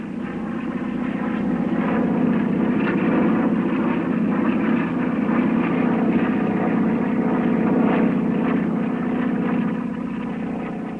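Gee Bee Model Z racing airplane, 535 horsepower, flying in an air race, gives a steady droning engine roar that holds at an even, fairly loud level the whole time, with no talking.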